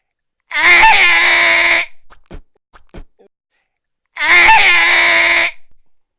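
A person imitates the distressed scream of a llama with two loud, strained, wavering cries, each lasting over a second, separated by a short gap containing a few faint clicks.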